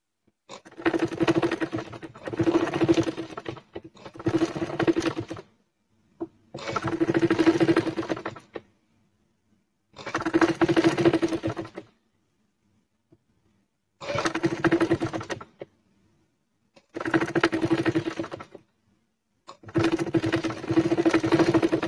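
Sewing machine stitching a thin seam along the side of a gathered sleeve, heard as seven or eight loud close bursts of roughly two seconds each, separated by brief silent pauses.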